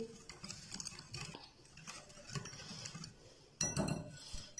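Tandoori chicken tikka marinade ingredients, including chilli powder, paprika and food colour, being mixed in a bowl, with soft irregular clinks and scrapes of a spoon against the dish, quiet and close, ending in a sharper clatter.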